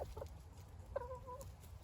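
Silkie chickens in a mixed flock of roosters and hens clucking nearby, a couple of short clucks followed by a longer drawn-out warbling call, faint over a low steady background rumble.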